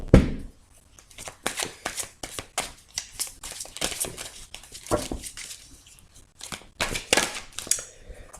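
A deck of tarot-style cards being shuffled and cut during a card reading, with close, crisp riffling bursts and slaps in irregular clusters, and brief pauses between them.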